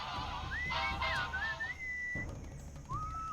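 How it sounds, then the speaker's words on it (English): A melodic whistled tune from the Sam & Max video game, with rising and falling phrases over bleating farm animals and background music, then a brief pause and one more short whistled note. "enchanting whistling sound?"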